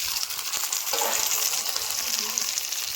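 Spice masala with chopped tomatoes fries vigorously in a pan, giving a steady crackling sizzle throughout with occasional stirring scrapes, close and fairly loud, no talking.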